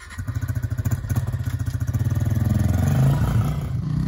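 A Honda CRF 110 dirt bike runs laps nearby, its small engine pulsing in a rapid, steady chug that builds gradually louder and higher as it accelerates.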